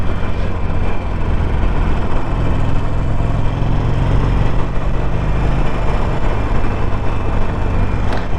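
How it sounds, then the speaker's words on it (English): A Harley-Davidson Sportster Iron 1200 with a new air collector runs on a misty morning ride, its engine and exhaust a loud, continuous low throbbing rumble with steady wind noise and no speech. "I've become more attuned to what this exhaust engine sounds like"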